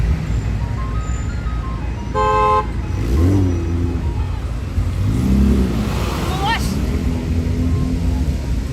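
A Jeep and a car clash in road rage on a Staten Island street in New York City: a sharp horn toot sounds, then engines rev loudly in two surges, with voices talking over the traffic.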